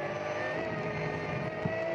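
The number 3 race car runs through the Tiergarten section of the Nürburgring, its engine a steady tonal drone that holds at a moderate distance, with a faint brief knock near the end.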